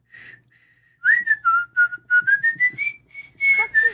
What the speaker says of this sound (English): I'm learning how to whistle.